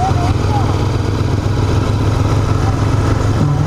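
A Royal Enfield Continental GT 650 motorcycle engine runs with a steady, loud low throb throughout, close to the listener, with a brief higher whine near the end.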